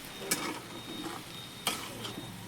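Goat fat fries in a pan with a soft steady sizzle while a utensil stirs and scrapes it, giving a few sharper clinks against the pan, fairly faint and close.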